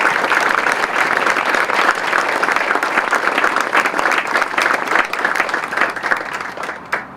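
A crowd at the Carol Kennedy Aquatic Center groundbreaking applauds the mayor and guests, a sustained, fairly loud burst of clapping that tapers slightly at the end.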